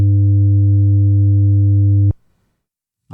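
Steady sine tone fed through soft clipper distortion, a smooth low hum with a few mild harmonics, loud and constant for about two seconds before cutting off abruptly into near silence.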